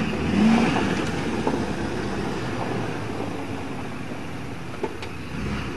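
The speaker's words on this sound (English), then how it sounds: "Now we're mudding the Cadillac Escalade." A Cadillac Escalade's engine revs and whirs steadily while the SUV churns through mud, a continuous mid-pitched motor drone with a brief louder surge near the start.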